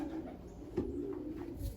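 Racing pigeons coo softly in a loft after a 150-mile race, a low steady murmur with one brief louder note near the middle and no talk over it.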